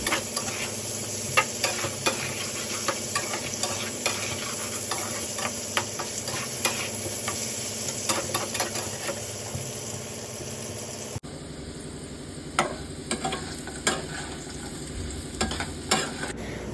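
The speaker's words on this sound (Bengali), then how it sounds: "আলুগুলিকে একটু আলাদা করে ভেজে দেওয়ার, সেটাই করছি" Potatoes fry in a pan with a little salt and turmeric, a steady dense sizzle running throughout beneath repeated spatula scrapes and stirring knocks, close and fairly loud, with a low engine-like hum in the background.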